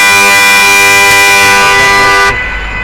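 A sustained, loud vehicle horn blares steadily for over two seconds, then cuts off abruptly, leaving low rumbling traffic noise.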